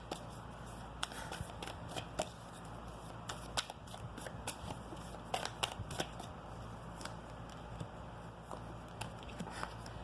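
Tarot cards being shuffled and drawn for a Sagittarius reading, a steady papery riffling with many soft clicks and flicks that runs throughout, close and moderately quiet with no talking.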